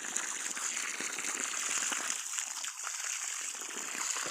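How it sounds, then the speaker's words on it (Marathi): Water gushes and trickles steadily out of a filled soil basin around a garden plant outdoors, a continuous close, moderately quiet flow with no talking. "आळ्यातनं पाणी निघालं"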